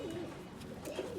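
Pigeons coo softly in a short, low rolling burst close by, with a faint background hiss.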